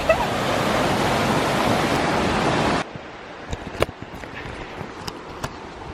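Rushing water of a waterfall on an early-morning mountain hike, a loud steady broadband roar for about three seconds that cuts off abruptly, leaving faint scattered rustles and taps.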